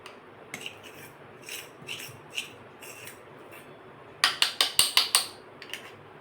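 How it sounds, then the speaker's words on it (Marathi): Besan and potato sev dough being packed into a sev press mould, giving soft rubbing, scraping sounds early on, then a close run of six or seven sharp, regular metallic clicks and rasps near the end. "मिश्रण आहे ते व्यवस्थित या साच्यात भरून घ्यायचं आहे"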